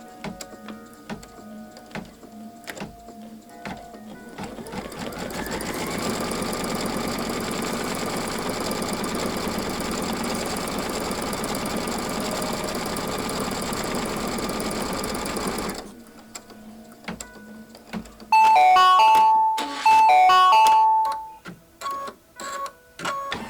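A sewing machine runs steadily for about ten seconds, stitching taut fabric along the side of a bunny pillow wrap, then stops, followed by short mechanical whirs and beeping tones from the machine.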